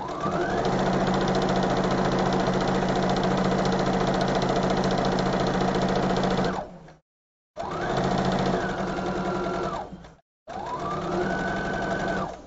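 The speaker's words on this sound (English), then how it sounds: "Get to the end, lock your stitching again because we are leaving both ends open for this bow." A sewing machine runs in long, steady bursts as it stitches a felt bow, its motor whirring loudly and continuously for several seconds, then stopping briefly and starting again twice.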